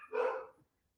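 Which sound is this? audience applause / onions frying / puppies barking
puppies barking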